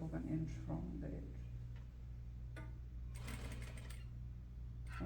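A sewing machine runs steadily, machine-basting a Peter Pan collar to a bodice neckline at a quarter inch from the edge. It makes a continuous mechanical hum with light ticking, heard under someone talking.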